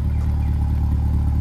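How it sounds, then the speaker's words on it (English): A 2023 Chevrolet Corvette 3LT convertible with the Z51 exhaust runs close by, a loud, steady, deep burbling rumble with strong low harmonics and no voices. "that Z51 exhaust."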